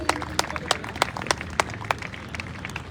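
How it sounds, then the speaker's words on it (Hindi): An audience at a Republic Day celebration claps for an award winner, with sharp individual claps standing out at a fairly steady pace over a thin, moderate background of scattered applause. "एक बार जोरदार तालियां उन्हीं के लिए"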